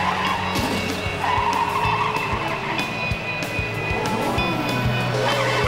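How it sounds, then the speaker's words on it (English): A cartoon Formula 1 race car spinning out of control, loud continuous tire squeal and skidding over a roaring engine, sustained and close throughout with no pause. "Chris Bravo's car is spinning out of control!"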